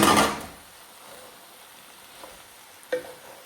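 Cooked rice is stirred into a potato and spinach mixture, a short, loud scraping mix at the start that fades into quiet, broken later by a soft knock and a sharper tap of a spoon on the pan.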